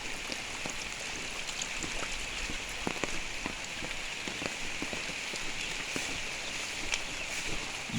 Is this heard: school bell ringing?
no